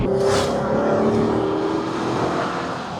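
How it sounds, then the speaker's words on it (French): A sports car engine, a Porsche or Ferrari, revs hard up toward 5000 rpm in second gear, loud and close with a rising roar and throaty drone. "là je la secoue, je monte à 5000 en seconde"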